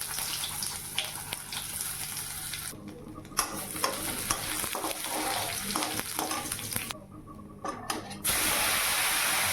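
Cumin seeds and bay leaf sizzling in hot oil in a kadai, a continuous crackling hiss with stirring clatter, brief gaps, then a louder steady sizzle at the end.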